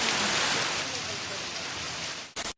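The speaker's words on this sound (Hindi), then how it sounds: "बारिश रुक ही नहीं रहा है" Heavy rain pours down in a dense, steady hiss that stays loud and close, then cuts off abruptly near the end.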